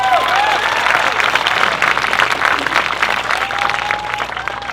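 An audience clapping during an evening session at a summer camp, a full, continuous round of applause with a few whoops and whistles mixed in, loud and close.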